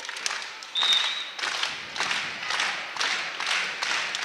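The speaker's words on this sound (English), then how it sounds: "The student section got a little rowdy on that one" A high school student section cheers and claps at a varsity volleyball game, sending up a loud, sustained roar with bursts of clapping that swell and fade several times.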